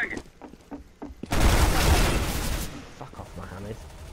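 Negev light machine gun firing a dense, loud burst in the CS:GO game, preceded and followed by scattered shorter shots, with talk over the gameplay.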